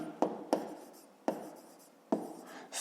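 Pen strokes on paper while a math solution is written out by hand, with a few sharp taps as the pen touches down and quiet scratching in between, close and alone.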